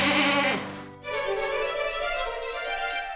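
A goat bleats loudly and close by in two drawn-out, wavering cries, one straight after the other, with no voices.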